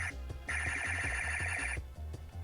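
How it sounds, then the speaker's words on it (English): A Mattel 12-inch Buzz Lightyear figure's electronic laser effect rings out in a bright, sustained warbling tone over a pulsing low beat, then cuts off abruptly. "you can actually push and hold it for more sound effects"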